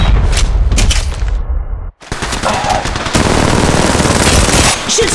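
Rapid bursts of automatic gunfire in the Apex Legends Mobile video game, loud and close, with a brief silent gap midway before dense firing resumes and continues to the end.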